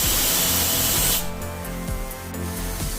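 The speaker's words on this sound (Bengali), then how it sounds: "একটা সিটি দিয়ে আমি কিন্তু গ্যাসটা অফ করে দিলাম।" Steam hisses sharply from a pressure cooker whistle while rice cooks on a gas stove, a loud burst that thins into a softer, tonal hiss with a low hum underneath.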